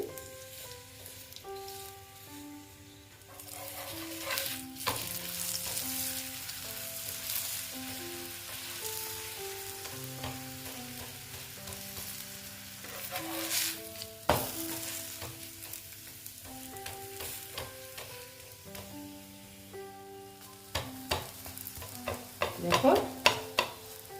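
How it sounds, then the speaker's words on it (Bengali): A radish-stuffed paratha fries in oil on low heat with a soft, continuous sizzle and occasional stirring or scraping sounds, while gentle background music plays throughout. "এখন দেখো আমি তেল দিয়ে দিচ্ছি আর আমি কম স্টিমে করছি"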